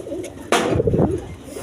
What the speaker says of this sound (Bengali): এখানে এক পেয়ার গররা কবুতর আছে দেখেন আপনার আনকমন কালার